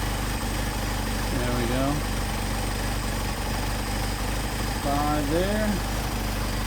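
A Mercedes 190SL engine idling on Solex 44PHH carburetors, a steady low rumble that runs throughout, with someone speaking briefly twice over it.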